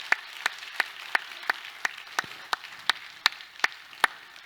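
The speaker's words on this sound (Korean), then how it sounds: "뜨겁게 박수로 환영하겠습니다" Congregation applauding in a church to welcome a new pastor, heard as steady, evenly spaced sharp claps standing out over a soft wash of lighter clapping, moderately loud and continuing throughout.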